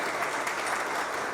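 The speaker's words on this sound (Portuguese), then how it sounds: "uma salva de palmas" Brief burst of steady, dense clapping from an audience at a retail and franchising business conference, with no voices over it.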